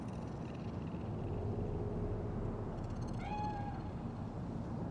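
A cat meows once in the Cyberpunk 2077 video game, a clear rising-then-falling call heard over a steady, dense city ambience with no talking.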